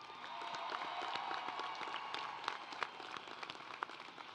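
Graduation ceremony crowd applauding friends and family members at a university commencement, a broad steady wash of many hands clapping with scattered sharper claps standing out, sustained throughout.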